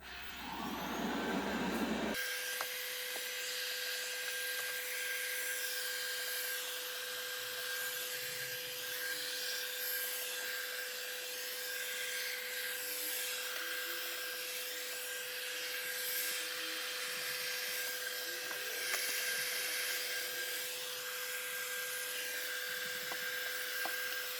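An eufy RoboVac G10 robot vacuum cleans a kitchen floor with a continuous whirring hum and a steady high whine after a brief louder start, close and unbroken throughout.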